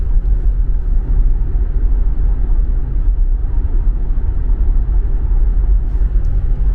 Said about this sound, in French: 110 km/h, micro d'ambiance de la caméra sur la voie rapide pour tester le niveau sonore.